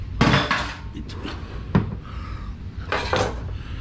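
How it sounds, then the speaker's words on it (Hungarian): A heavy cast iron pot is handled in a kitchen while cooking a stuffed meat roll, giving several sharp metallic clanks and knocks spread across the moment, close and fairly loud, with a voice talking softly underneath. "Öntvény edény."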